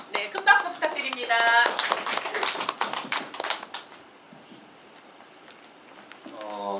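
Lecture audience applause rises in a short, fairly close burst of clapping mixed with a speaker's voice, then thins to scattered claps and room tone before talk resumes.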